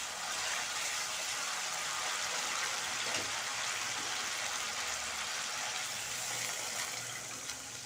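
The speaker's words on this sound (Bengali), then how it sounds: "এবার আমি জল দিয়ে দেবো।" Water poured into a pan of simmering eggplant curry with raisins, a steady broadband gush running evenly throughout with a small splash near the middle.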